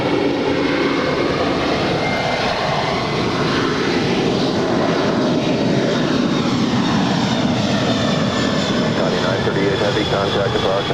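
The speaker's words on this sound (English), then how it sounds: "We have a Queen rolling on 25 right, Qatar Air Flight 938 departing to Anchorage." A Qatar Air Boeing 747-400 freighter taking off from runway 25 right at Los Angeles International Airport, a loud, steady jet engine roar with shifting tonal sweeps as it passes, continuous throughout.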